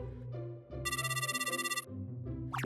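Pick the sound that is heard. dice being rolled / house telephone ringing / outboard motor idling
house telephone ringing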